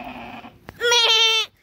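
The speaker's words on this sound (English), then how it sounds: "Oh look, sheep." A sheep gives a single loud, close bleat lasting about half a second, preceded by a fainter, higher animal call and a brief click.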